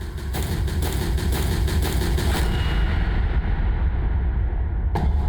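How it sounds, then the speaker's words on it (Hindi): A gunshot cracks out inside a school during a tense hostage standoff, a sharp distant report against a steady low rumbling background, with a brief second burst near the end and nobody talking. "अभी अभी स्कूल के अंदर से गोली चलने की आवाज आई है।"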